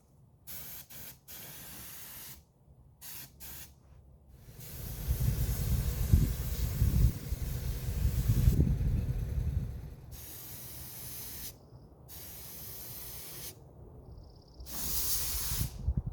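A spray gun spraying paint onto a trailer outdoors, coming as repeated hissing bursts of varying length with short gaps between them, one longer and louder stretch in the middle, heard at some distance from the work.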